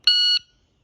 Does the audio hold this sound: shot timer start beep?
yes